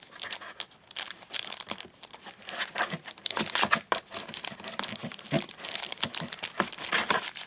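Packaging from an 8Bitdo Ultimate 2C wireless controller dongle crinkling and rustling steadily up close, with dense crackles and tearing-like bursts, no one talking.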